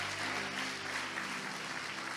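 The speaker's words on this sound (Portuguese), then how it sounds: "Vamos aplaudir o Senhor pela vida desse casal." A church congregation applauds a couple in praise to the Lord, a dense wash of clapping with a low steady hum underneath, brief and continuous.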